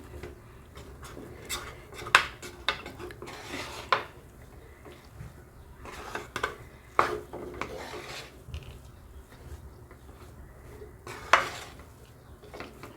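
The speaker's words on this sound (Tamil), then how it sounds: "கொஞ்ச நேரம் அப்படியே கிண்டி விடலாம் பாருங்கள்" A spatula stirs bread halwa with ghee in a pan, making irregular rasping scrapes and occasional louder clinks against the metal, close up with no talking.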